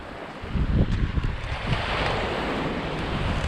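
Sea waves wash against the rocky coast near Dunstanburgh Castle at Craster, with steady loud surf and buffeting wind noise on the microphone.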